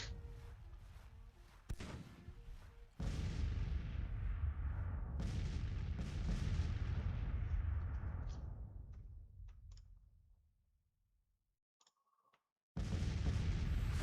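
Cannon artillery thunders across a Civil War battlefield in the strategy game Grand Tactician, with several heavy booms and a long rolling rumble that fades to near silence before another blast cuts in at the end.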